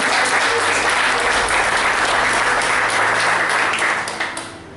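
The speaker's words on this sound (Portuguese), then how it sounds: "Eu quero que você aplaude o Senhor Jesus" A church congregation applauds during a Portuguese-language sermon, dense and loud clapping that fills the space evenly for several seconds before tapering off near the end.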